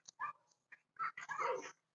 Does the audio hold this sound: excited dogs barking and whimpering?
yes